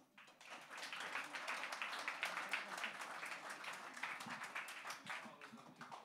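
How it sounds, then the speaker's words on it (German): A small audience at an Astronomy on Tap talk in Bonn claps at moderate volume, the applause swelling quickly and holding steady with distinct individual claps audible. "Also ein ganz, ganz großer Applaus für Dr. Alessandra Roy."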